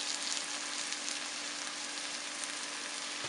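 Peppers, onion, garlic and flour sautéing in a pot, a steady dense sizzle and crackle that holds evenly throughout, close and without any voices.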